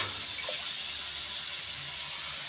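Water running steadily into a cooking pan while preparing Odia bara tarkari curry, a continuous close splashing pour heard alone without talk.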